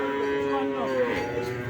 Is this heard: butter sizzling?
no